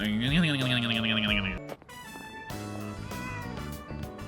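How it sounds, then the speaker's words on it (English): A cat meows in the game Persona 3 Reload, a sliding, wavering cry followed by brief silence and then musical game tones with bright harmonics. "Was that a cat's meow?"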